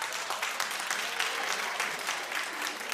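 A television talk show studio audience claps continuously, a dense, even wash of many hands heard at moderate distance for the full few seconds.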